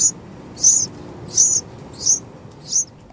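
Baby birds in a nest chirp in five high, thin bursts spaced evenly apart over a low background hum.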